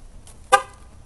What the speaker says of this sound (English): by touching the car he can make the horn honk